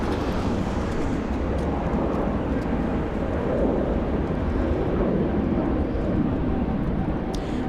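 An Air Tahiti Nui airliner moves along a taxiway at Los Angeles International Airport, heard as a steady, unbroken engine roar at a distance with no voices.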